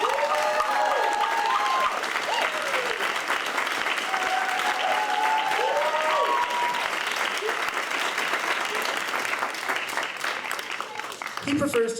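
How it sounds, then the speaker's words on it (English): Audience applause for the conductor at a Wildwood concert of a wind ensemble: dense, sustained clapping from a crowd, with some cheering and voices mixed in throughout. "I just want to give him another round of applause."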